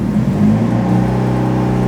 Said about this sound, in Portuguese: Vocês estão ouvindo o motor se acelerando